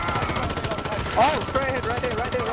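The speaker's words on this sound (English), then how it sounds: "there's someone shooting above me" Call of Duty Warzone video game gunfire rattles in quick repeated bursts under game ambience while players talk over it.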